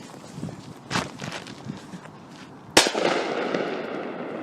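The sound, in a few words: Crazy King firecracker exploding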